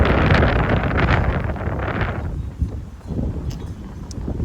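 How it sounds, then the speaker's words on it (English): Strong wind gusting across an open cemetery in Kissimmee, Florida, a steady broadband roar buffeting the microphone throughout, easing slightly midway before rising again. "Very breezy."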